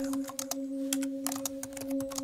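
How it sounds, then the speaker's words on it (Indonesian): Someone types on a laptop keyboard, quick irregular clicks in short bursts over a steady electrical hum, close and fairly quiet. "aku pun mulai mengetik"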